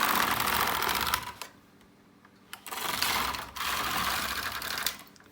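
A Singer double bed knitting machine carriage knitting rounds on a traditional Alpine jacket, making rapid mechanical clattering passes that stop for about a second, then resume in two more loud sweeps with a short break between.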